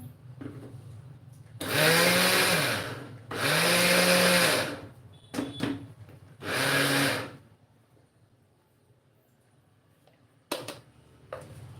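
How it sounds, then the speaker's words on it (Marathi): Mixer grinder grinding peanuts for sweet peanut and jaggery ladoo, run in short bursts: three loud whirring pulses with pitch sweeps, a brief blip, then near silence with faint clatter. "मिक्सरला फिरवून घेऊया आणि असं चालू बंद करतच आपल्याला हे मिक्सरला छान दळून घ्यायचं आहे"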